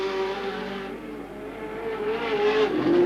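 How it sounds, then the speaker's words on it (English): A big speedway race car with a Walker engine roars past the tower at a 1985 Tasmanian speedway meeting, a loud sustained engine note rising and shifting in pitch as it passes close by. "the Walker engine sounding superb as Cook goes past the tower"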